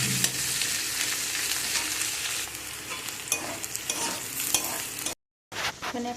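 Onions and capsicum sizzle loudly in a hot pan while a utensil stirs them in steady scraping strokes, the frying continuous before a sudden brief silence near the end, then resuming.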